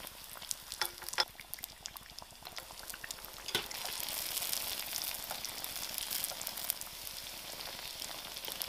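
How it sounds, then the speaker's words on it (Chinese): Youtiao dough strips deep-frying in 170-degree oil, giving a steady fine crackling sizzle of tiny bubbles, close and fairly quiet, with a few sharper pops and a brief scrape near the start and no voices. "170度炸油条，油条下锅后有细密的气"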